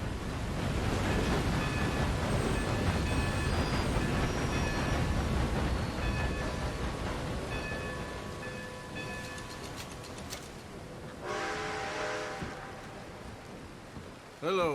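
A steady, loud rumbling roar of a train rolling along the rails in Red Dead Redemption II fills most of the span, then thins near the end, where a brief tonal screech and a clunk stand out.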